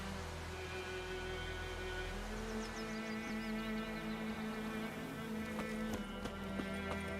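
Horse hooves clip-clopping at a steady walking rhythm, faint and somewhat distant beneath a constant hum and tonal background music.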